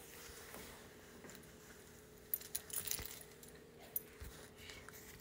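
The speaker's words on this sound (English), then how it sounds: "we're gonna hang up the keys." Keys on a lanyard jangle briefly as they are hung up, a cluster of light metallic clinks in the middle with a couple of isolated taps afterward, fairly close against a quiet room.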